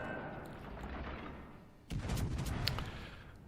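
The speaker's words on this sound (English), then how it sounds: "Firing the guns, shots out." Warship main guns firing in a naval video game, the Queen Elizabeth battleship; a low rumbling roar, then a sharper loud burst of gunfire with crackling blasts and a rolling boom behind.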